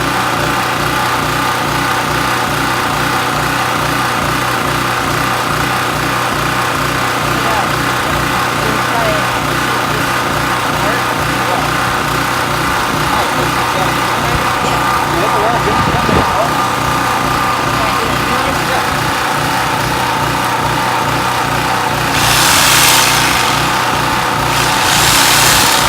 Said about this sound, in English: Generator running.